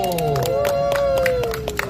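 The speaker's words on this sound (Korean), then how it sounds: "박수!" A crowd claps and cheers, the sharp hand claps coming in quick irregular bursts. A loud sustained voice calls out over the applause throughout.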